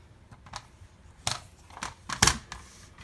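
Scissors trim a cheap paper folder for a large planner, giving a few sparse, crisp snips and rustles close by in a quiet room, with no talk.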